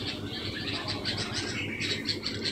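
Madrasi pigeons held in hand at a home loft give soft cooing and chirping calls, steady and close over a low background hum.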